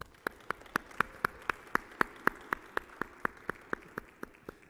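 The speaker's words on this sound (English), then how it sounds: "let's give them a round of applause at this time" Sharp, evenly spaced claps ring out for an audience at a middle school academic Super Bowl competition, landing in a steady rhythm of about four per second, close and crisp over a quiet background.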